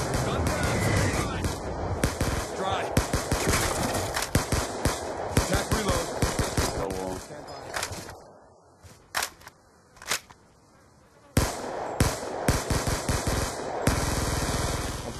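Rapid automatic gunfire from a Black Ops 2 multiplayer Hardpoint match cracks in dense, loud bursts, pauses briefly in the middle, then resumes, with a player talking over it.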